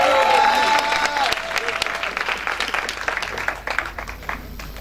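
A church congregation at a spiritual retreat applauding and cheering for Jesus: dense, loud clapping and shouting that gradually thins and fades, with voices mixed in.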